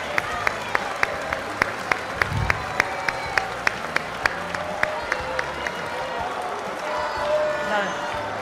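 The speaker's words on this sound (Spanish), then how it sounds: "un fuerte aplauso a El Destape" An audience at a film event claps in a slow, steady rhythm, with sharp, evenly spaced claps repeating for several seconds over a murmuring crowd before the rhythm fades.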